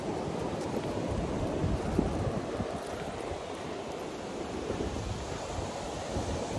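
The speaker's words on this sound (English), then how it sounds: "down the beach here, Crystal Beach, Texas" Ocean surf rolls onto the shore at Crystal Beach, Texas, a faint, continuous wash of waves mixed with wind buffeting the microphone.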